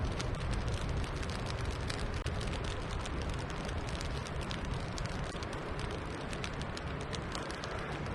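Old particle-board cabinets burn outdoors in the rain, giving a dense, steady crackle and hiss with scattered sharp pops throughout, close and constant.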